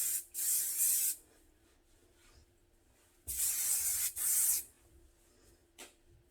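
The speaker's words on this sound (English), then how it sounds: "I use the Ion Styling Texture Spray Wax just to give it a little zhuzh." Two long hissing bursts of texture spray wax onto hair, each about a second, followed by a few shorter spritzes, close up in a quiet room.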